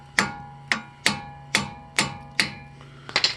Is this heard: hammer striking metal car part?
yes